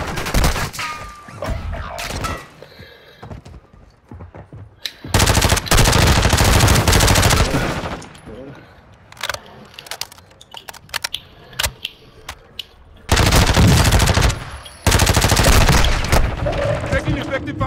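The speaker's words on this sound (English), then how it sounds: "Taking effective fire." Loud video game gunfire in long automatic bursts, with sustained machine-gun volleys starting and stopping between quieter stretches of clicks and shots, players talking over the action.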